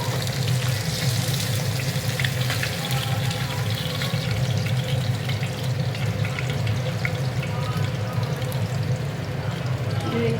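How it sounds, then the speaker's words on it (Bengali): Pieces of chital fish fry in hot oil in a pan, giving a dense, steady sizzle that holds at an even level for about ten seconds with no break. "মাছগুলো ভালো করে ভাজা হয়ে যাক।"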